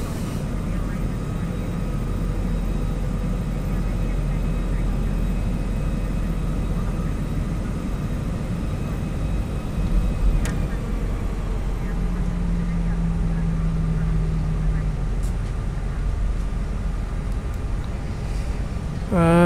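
Steady low engine hum of a Toliss A319 airliner taxiing in X-Plane 11, a continuous droning rumble that holds for the whole stretch, with a brief higher tone partway through and no talk.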